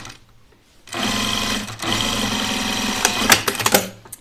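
A sewing machine stitches a seam through split layers of batting for an oven mitt or dish carrier, a close, loud, steady motor whir lasting a few seconds and ending in a flurry of clicks and stops.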